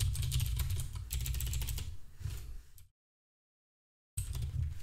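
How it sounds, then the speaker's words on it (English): Rapid typing on a computer keyboard, close and clear, with dense clattering keystrokes that pause briefly into silence before resuming. "Typing is quite difficult."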